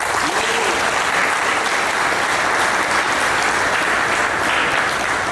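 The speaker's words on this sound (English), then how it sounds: "everybody get a round of applause for Chris Lawson." Steady, dense applause from a banquet-hall audience at a boxing awards banquet, loud and sustained throughout with no clear voices over it.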